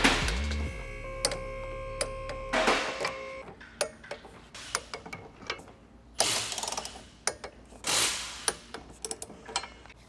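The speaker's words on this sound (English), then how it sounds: "you're going to take a torque wrench and you're going to torque them down to 17 foot-pounds" Torque wrench tightening 12mm crash bar bolts on a Nissan 350Z, heard as close mechanical clicks and ratcheting bursts in irregular groups, with no talking.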